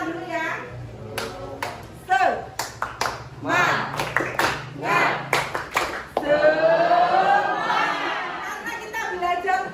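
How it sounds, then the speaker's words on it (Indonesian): A classroom of students claps a rhythmic spirit clap in sharp, uneven bursts, loud and close, mixed with a teacher's voice and children calling out between and over the claps. "Tepuk semangat dulu ya"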